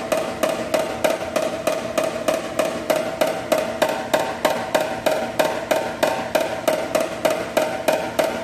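Paintless dent repair work on a VW Tiguan side panel: steady, evenly spaced light hammer taps on sheet metal repeat about twice per second, close and alone.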